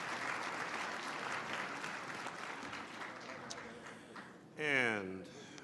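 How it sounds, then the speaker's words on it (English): A lunch audience at an annual winter meeting gives award winners a sustained round of applause, steady clapping filling the room for several seconds before a voice cuts in near the end. "Let's give all of our award winners one more big round of applause"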